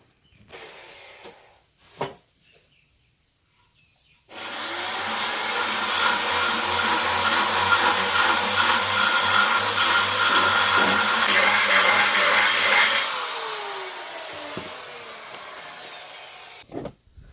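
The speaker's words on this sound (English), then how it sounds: "I'm going to have to get the drill and give those a bit more welly" A power drill whirs steadily for about eight seconds, loud and close, enlarging engine mount holes, then winds down, with brief knocks before it starts.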